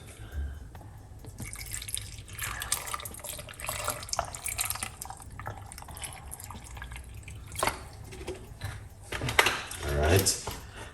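Water is poured in while a kiwi fruit recipe with honey is prepared in a kitchen, giving faint drips and trickles with occasional clinks of dishes, all under an ongoing voice.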